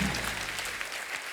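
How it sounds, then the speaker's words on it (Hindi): Applause from a studio audience welcoming four guest singers on a music show, a short, fairly faint burst of dense clapping with no talk over it. "जोरदार तालियां हो जाए हमारे चारों मेहमानों के लिए।"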